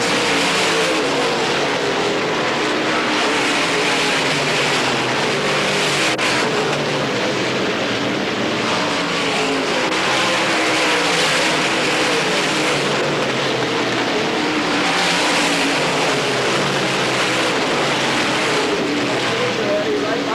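Race cars roar around the Pennsboro Speedway dirt track during the 1990 Hillbilly 100, a loud continuous engine din with swelling passes, with a commentator's voice over the noise.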